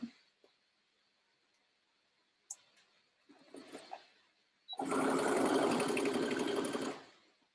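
Sewing machine stitching the side seam of a lined dress from the armhole downward, running in one sustained close burst of about two and a half seconds after a few faint handling clicks and rustles.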